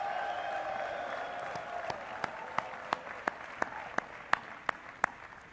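A graduation ceremony audience at Morehouse College applauds steadily at a distance, with a series of sharp, evenly spaced loud claps standing out near the end.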